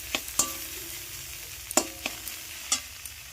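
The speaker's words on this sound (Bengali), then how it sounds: "2 রকম শাক ভাজা হচ্ছে। একটুখানি পেঁয়াজ আর লঙ্কা দিয়ে ভাজা।" Radish greens and spinach fry with onion and chili in a pan, a soft steady sizzle broken by several sharp metallic scrapes and taps of a spatula stirring, no talk.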